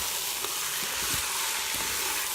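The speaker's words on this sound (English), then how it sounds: "I'm gonna stir this up a little bit." Chicken cacciatore with chopped fresh carrots, garlic and onions sizzling in an Instant Pot, a dense steady frying hiss with a few low thuds and scrapes as a spoon stirs, no speech.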